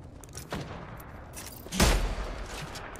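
Gunfire in the battle royale game Apex Legends: a few scattered shots, then a louder, fuller burst near the middle, all against a steady low game background with no voices.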